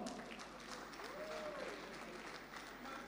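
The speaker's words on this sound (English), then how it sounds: "Please give him a big round of applause." Applause from an audience at a certificate presentation for a child's longest abdominal plank record, a faint, even spatter of clapping over a few seconds with a voice briefly heard behind it.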